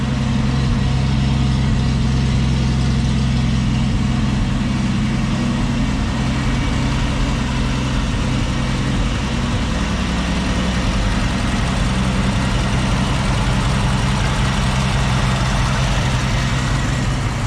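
A 1976 Triumph TR6 engine idles cold, holding a steady, even, close rumble throughout with no breaks or revving.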